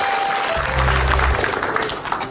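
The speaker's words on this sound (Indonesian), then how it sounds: "Terima kasih ya, tepuk tangan." Crowd applause from a studio audience at an Indonesian comedy show, a steady wash of many hands clapping, with a brief low hum partway through and the clapping thinning toward the end.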